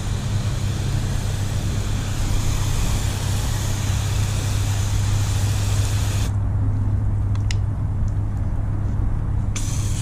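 Hose spray nozzle on its mist setting hissing steadily against a car during a wash, a continuous loud broadband spray over a low hum, the hiss changing character partway as the spray shifts, no talk.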